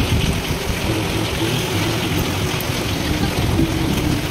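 Steady outdoor rain falls during outdoor stove cooking of handi chicken, with wind, a constant broadband wash that holds evenly throughout.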